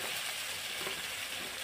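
Whole spices and vegetables fry in hot oil for fish curry, making a continuous close hiss and crackle with no voices.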